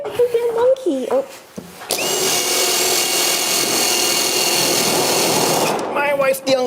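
A power drill whirs steadily for several seconds at close range during a chimney installation, with brief voices before and after it.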